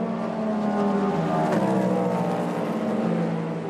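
A Cadillac and a Ferrari endurance racing car roar along close together at the 6 Hours of Fuji, their engines loud and strained as they climb a hill, the pitch rising and falling with gear changes.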